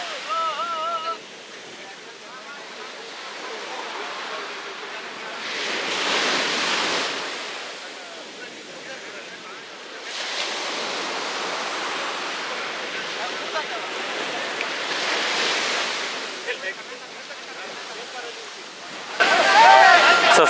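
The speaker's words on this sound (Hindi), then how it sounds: "इस टाइम के पानी में ना बहुत तगड़ा स्ट्रॉन्ग वेव्स होती हैं जो रिस्की होती हैं।" Strong ocean waves crash and wash on Gokarna beach in Karnataka, with broad surging swells every few seconds, wind noise on the microphone and people talking over the surf.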